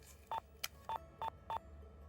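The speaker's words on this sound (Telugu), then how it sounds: "నాన్నగారికి ఫోన్ చేయి." A telephone is dialed to call a father, giving four short, evenly spaced keypad beeps and one sharp click among them. The beeps are quiet and sit alone over low background hum.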